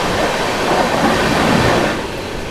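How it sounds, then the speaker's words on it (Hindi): The Rajdhani Express train races past at high speed close by, a loud, steady roar of rushing wheels and rattling carriages that eases slightly toward the end. "Super fast express."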